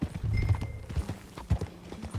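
Horse hooves clip-clop at a steady walking rhythm in Red Dead Redemption 2, close and clear, with a brief whinny and faint background sound.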